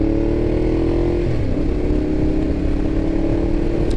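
A 2012 Ducati Diavel motorcycle ridden on a bumpy secondary road, its engine droning loud and steady throughout under heavy rumble and road noise, with no speech.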